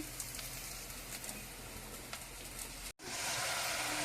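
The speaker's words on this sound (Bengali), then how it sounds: "এইবারে সজনে পাতার চপগুলো ভেজে নিচ্ছি" Drumstick leaf chops fry in hot oil with a steady crackling sizzle like light rain, close and fairly soft. The sound cuts out briefly, then returns brighter and louder.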